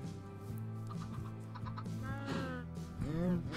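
Chickens in the Minecraft video game cluck in a series of short, repeated game-sound clucks, moderately loud and close with no speech.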